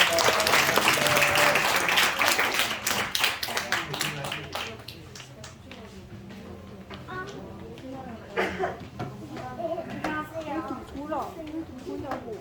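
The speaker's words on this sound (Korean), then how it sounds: "다시 한번 감사하다고 박수하겠습니다." Congregation clapping during a church service, a dense burst of applause that fades over the first few seconds, followed by scattered taps and murmuring voices of people moving about.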